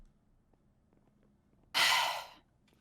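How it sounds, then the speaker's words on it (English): One person's sneeze bursts out sharp and close, a single brief explosive burst lasting under a second, after near silence. "Were you actually sneezing?"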